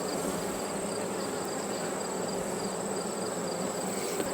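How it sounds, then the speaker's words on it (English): Honeybees swarm and buzz around hive frames being shaken off at storm-damaged hives, a dense, steady, close drone that holds without a break. "gonna shake the bees off."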